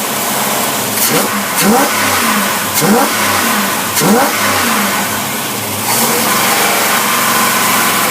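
A car engine with tri-power carburetors running near 1600 rpm, a loud, close, steady mid-pitched drone with several short revs rising and falling over it.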